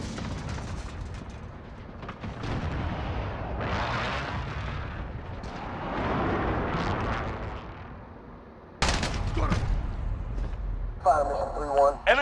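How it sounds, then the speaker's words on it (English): Explosions from a precision airstrike in Modern Warfare 2022 rumble continuously, with a sharp heavy blast cutting in near the end amid game audio. "Enemy precision airstrike inbound."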